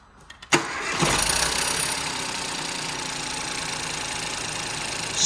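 A 2015 Ford Fiesta Zetec S with the 1.0 EcoBoost engine cranks briefly and catches, then settles into a steady, smooth idle that runs on at an even, fairly loud level close to the microphone.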